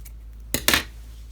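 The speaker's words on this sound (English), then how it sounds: "So just trim and then trim all of your loops." Scissors snip through crochet yarn loops twice in quick succession, sharp metallic clicks that are close and clear with quiet room tone around them.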